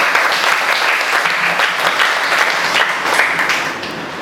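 A room full of people at a seminar bursts into loud, continuous applause welcoming Jay, a thick steady wash of clapping that eases slightly at the end.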